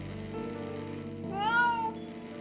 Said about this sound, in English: the cat meowed elegantly and took off